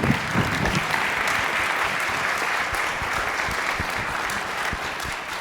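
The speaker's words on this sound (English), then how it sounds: "let's give these folks another round of applause for their leadership" Church congregation applauding at a celebration service, a steady wash of many hands clapping that holds for the whole stretch without pause.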